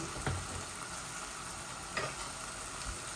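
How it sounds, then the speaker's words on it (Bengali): Koi fish, some large and some small, frying in oil, heard as a continuous soft sizzle with a few faint clinks of a utensil against the pan, quiet and close, with no talk. "তিনটা কই মাছ বড় ছিল আর তিনটা ছোট ছোট প্যাকেটের মধ্যে আমি সবগুলো এইভাবে ভেজে নিচ্ছি"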